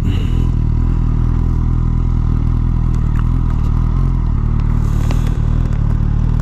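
A 2019 Suzuki Katana motorcycle idles steadily after pulling to a stop, its engine running as a loud continuous low rumble with light clatter and scraping on top.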